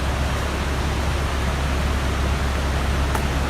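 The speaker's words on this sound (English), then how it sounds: "Just love the sound of the water." River water rushes steadily at Teddington Lock on the Thames, a loud, continuous broadband roar that is close and unbroken, with no talk.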